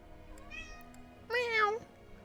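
A pet cat gives two meows, a short faint one followed by a louder, longer rising-falling cry, close by in a quiet room.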